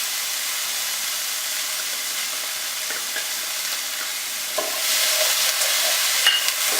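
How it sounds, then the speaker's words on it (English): Chickpeas fry with spices in coconut oil in a pan over a high flame, a steady close sizzle and hiss that swells louder near the end with light stirring scrapes. "So you put the chickpea in with the coconut oil, probably too high of a flame, as you could hear."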